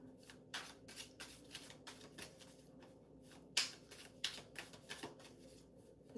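Tarot cards shuffled and drawn during a live Leo reading, a quiet close series of crisp riffling bursts and soft slaps with short pauses between, no voices.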